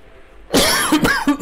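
After a brief quiet moment, a person coughs close up, three harsh coughs in quick succession.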